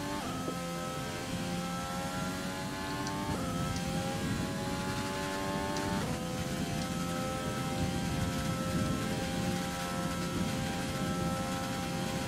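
Rain falls in a racing video game at a Belgian circuit, a steady hiss of spray under the droning, gear-shifting whine of a race car engine that rises and steps up through its gears.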